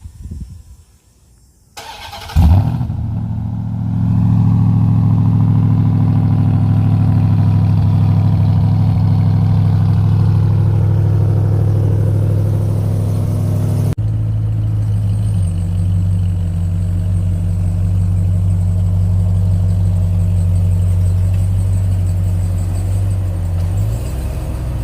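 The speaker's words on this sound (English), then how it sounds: "Here's a cold start for you." A Ram TRX pickup truck parked in a garage cold-starts with a brief crank and a loud catch, then settles into a steady, deep, rumbling idle that holds close and loud for over twenty seconds.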